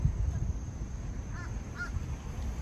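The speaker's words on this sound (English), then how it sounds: "It's a bird flying around." A crow caws outdoors in a Target parking area, two short harsh calls around the middle of the clip, moderately distant over a steady low rumble of traffic and wind.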